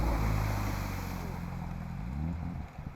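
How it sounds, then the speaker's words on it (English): A Mitsubishi rally car at a forest rally water splash, its engine droning loudly and then faltering and dying away as the car stalls, leaving quieter scattered noise at the end. "Ian Dixon's Mitsubishi didn't like the water splash very much, as the engine conked out on impact"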